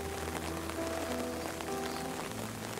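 Rain falling in a rose garden at a flower festival gives a steady, soft patter with faint tonal hum underneath, and no voices are heard.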